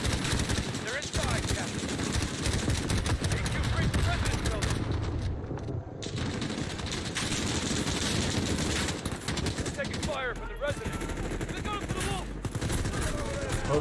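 Dense, rapid gunfire from the Modern Warfare campaign rattles almost continuously at close range, with chaotic battle noise beneath and a player talking over it.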